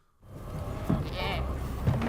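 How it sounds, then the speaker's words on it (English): Goats bleat in House of the Dragon, two short wavering calls heard close over a steady background bed with talk underneath. "Goats."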